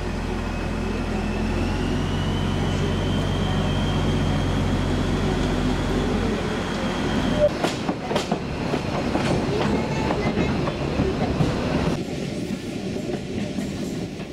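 A train on a single-track line in the wooded Buda hills of Budapest rumbles past close by, with a low engine drone giving way to rhythmic wheel clatter and a faint squealing whine.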